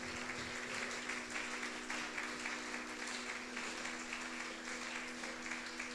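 A church congregation at a Sunday worship service applauds and cheers in praise of God, a steady, dense clapping that carries on evenly and fairly quietly throughout, with faint voices mixed in.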